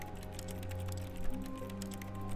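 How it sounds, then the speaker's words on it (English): Keyboard keys clatter in a quick, uneven run of soft clacks inside The Stanley Parable, sitting low and steady over a faint background hum. "It sounds like he's clacking on a keyboard."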